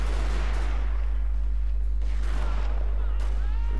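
Massed musket volleys from troops in the Total War: Shogun 2 Fall of the Samurai battle, a crackling spread of gunfire rolling through a dense battle din with a low steady hum underneath.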